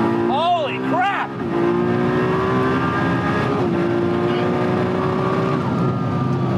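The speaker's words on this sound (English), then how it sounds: "Don't change gears, just floor it." A Nissan GT-R R35 street car pulls hard at full throttle without a gear change, its engine note rising steadily and loud from inside the cabin, with excited voices and an exclamation early on.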